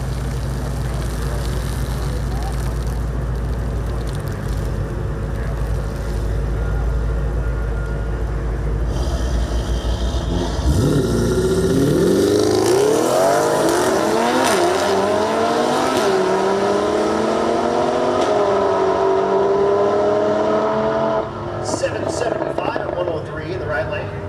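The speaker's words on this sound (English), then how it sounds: "Pair of Audis going at it again." A pair of Audi cars launch side by side down a drag strip, engines roaring loudly as they accelerate hard with rising revs, the run building from steady idle rumble to a sustained high-pitched climb and fading away.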